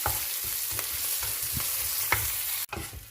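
Chillies sautéing in a pan for tavala ada batter crackle in a steady sizzle, with rhythmic stirring strokes every half second or so and a brief break near the end.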